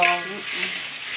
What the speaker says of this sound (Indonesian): digoreng hingga kental